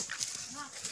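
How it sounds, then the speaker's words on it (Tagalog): A dog close by makes short whimpering yips and small vocal sounds in a quick burst on a farm with goats and chickens. "Yan yung aming aso, dalawa lang ang aso namin,"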